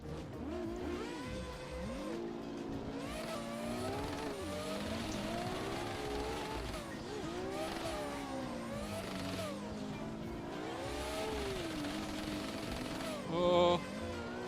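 A Mazda RX-8 in a drift sim during virtual championship practice, its engine bouncing off the rev limiter in sustained, rising and falling harmonic wails with tire noise, steady and loud throughout, briefly peaking near the end.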